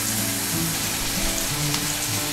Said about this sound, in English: we allow the 2 tablespoons of butter to melt, and we deglaze 1 teaspoon of garlic, that's chopped garlic